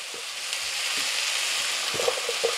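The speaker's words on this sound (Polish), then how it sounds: "do tej naszej dużej patelni i tak smażymy przez 5 minut." Steady, close sizzling of broccoli frying in a large pan, with a few soft scrapes and clinks of stirring.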